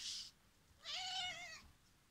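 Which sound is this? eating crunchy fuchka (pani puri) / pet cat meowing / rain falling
pet cat meowing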